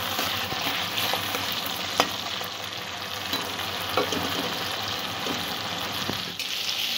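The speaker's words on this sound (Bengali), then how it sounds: "পেঁয়াজের কাঁচা গন্ধটা চলে যাওয়া পর্যন্ত পেঁয়াজটা আমি কষে নেব।" Onions with a little turmeric sautéing in a pan for a malai rohu fish curry, a soft continuous sizzle with occasional faint utensil taps and stirring, no voices.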